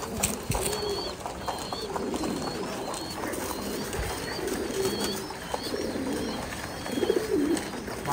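Pigeons on a farm coo steadily as parent birds feed their chicks crop milk, soft repeated calls over a constant background hum with occasional wing flutters.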